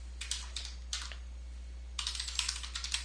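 Computer keyboard keys tapped in a few quick, close bursts with short pauses between them, quiet against a low steady hum, while logging into a server to enter a password.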